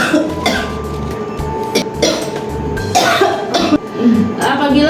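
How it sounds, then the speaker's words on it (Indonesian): A choking patient, standing upright, coughs repeatedly under instruction, several bursts spread across the stretch, with a nurse's voice speaking between and around the coughs in a clinical setting. "Ibu coba dibatukkan, Bu."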